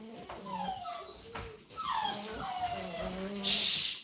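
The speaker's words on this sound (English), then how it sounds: "Yeah, puppies are going wild." Several puppies from a litter yip, whimper and whine excitedly, high-pitched cries overlapping close by, with a sharper burst of noise near the end.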